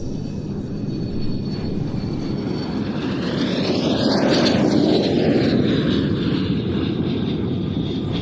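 Baltic Bees L-39 jets on an airshow practice pass at Leszno sound like a loud, continuous engine roar, with a whining tone that sweeps up and then falls as the aircraft pass overhead.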